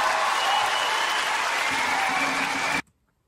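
Dense applause from a crowd at a performance, steady and loud, then cutting off abruptly into silence.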